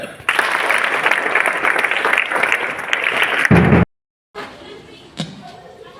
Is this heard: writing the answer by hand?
no